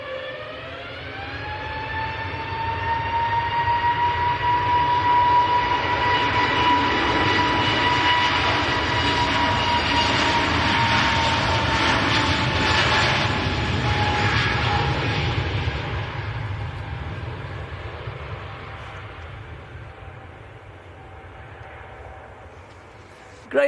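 An EasyJet Airbus A320neo departs Manchester Airport for Reykjavik. Its engines give a rising tonal whine over a broad roar that swells, holds loud for many seconds, then slowly fades into the distance.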